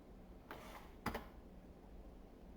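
Two quick bursts of keystrokes on a computer keyboard, faint and close, the second sharper and louder, against a quiet room hum.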